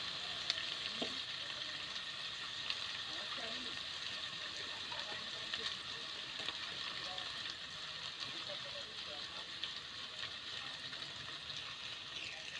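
Green chilies sauté in a hot pan with a continuous, steady sizzle and frying crackle, with occasional stirring clicks close by.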